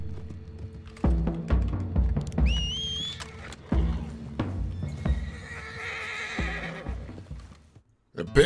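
Horse in Red Dead Redemption 2 whinnying loudly, with repeated clip-clop hoof steps and snorts spread over several seconds, and a high neigh near the start.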